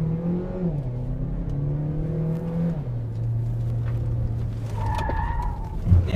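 An MG GS 1.5L Turbo swerves at about 60 km/h without braking, its engine note stepping down through steady tones before a brief rising whine and tire scrub at the end.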